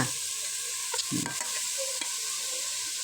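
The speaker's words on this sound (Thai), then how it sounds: "จะขัวไก่ก่อนค่ะ พร้อมกับ เครื่องที่เขาตำไปจ้ะ" Chopped chicken pieces stir-fry in a pot with pounded aromatics, a constant sizzle broken by a few scraping stirs and clinks, close up with no talk.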